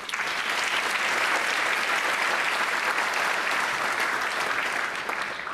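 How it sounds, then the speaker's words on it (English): Students at a foundation award ceremony applaud, a dense, even roar of many hands clapping at constant loudness throughout, with no talking over it. "give yourselves a round of applause"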